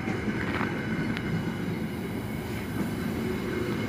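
A train, apparently a freight train of containers, rolls through Nuneaton station with a steady, rumbling wheel-on-rail roar and faint clatter, close and continuous throughout.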